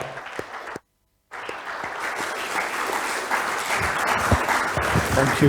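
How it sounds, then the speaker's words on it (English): An audience at a family business conclave applauds the panelists after their talk, sustained clapping across the room that pauses for a moment of silence, then resumes and swells toward the end. "Give them an applause."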